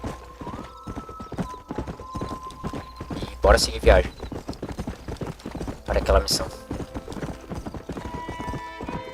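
Horse hooves clip-clopping at a steady walking rhythm in Red Dead Redemption, close and continuous, with a couple of whinnies and snorts cutting in, while someone talks over the footsteps.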